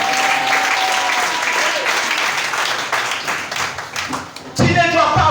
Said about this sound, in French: Est-ce que tu peux acclamer le Seigneur Jésus ce matin?